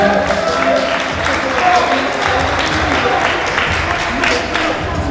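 Dense, sustained applause and crowd noise fill a fight venue after a unanimous-decision result, steady and close throughout with a few louder surges.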